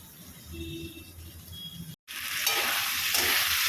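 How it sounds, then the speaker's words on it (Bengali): Potatoes and pointed gourd are added to spices cooking in a pan: a quiet simmer, a short break, then a much louder, bright sizzle with stirring sweeps; no speech. "মশলাটা কষা হয়ে গেছে, দিয়ে দিলাম আলু আর পটল ভেজে রাখা।"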